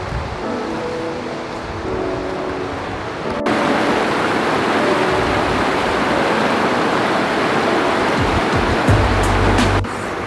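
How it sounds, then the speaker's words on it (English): Loud, steady rush of a cold trout river in Beavers Bend State Park, Broken Bow, Oklahoma, a constant broadband roar that fills the scene without letting up. "I don't know how well you can hear me because of the water you see running"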